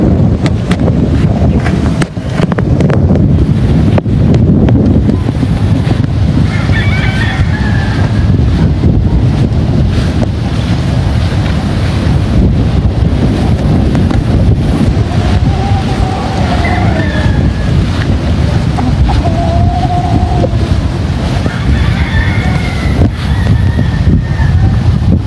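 Strong wind gusting across a big farm in the Philippines, a constant heavy roar buffeting the microphone throughout, with faint higher animal or bird calls surfacing now and then.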